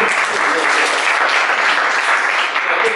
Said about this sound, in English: Round of applause, by the way.